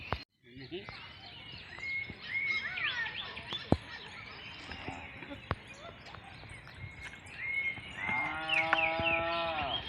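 Bullocks in a Konkan rice field at sowing time give deep, drawn-out moos over an outdoor background of birds chirping, with voices in the distance and a louder, rising call near the end.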